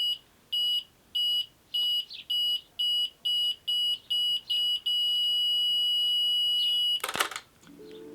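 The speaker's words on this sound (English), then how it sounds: "So that's how it sounds like, and it's going right now" A Polaroid Spectra camera's self-timer beeps in about ten evenly spaced bursts, then holds a steady tone and ends with a sharp mechanical click of the shutter firing, close and alone.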